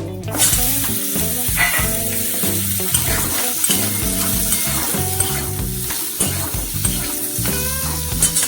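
Potatoes and tomato fry in a little oil in a wok, sizzling loudly and continuously, with stirring scrapes and clatters breaking through the hiss.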